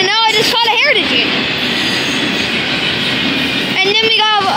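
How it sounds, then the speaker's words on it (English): An Erie heritage unit train passing close by on rails, with a loud continuous rumble of wheels and rolling stock and high, wavering wheel squeals at the start and end, plus a person speaking. "it was a cool looking train, and now I just caught a heritage unit"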